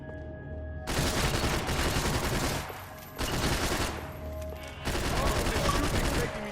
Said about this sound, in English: Doesn't look like you're shooting at one of the bad guys.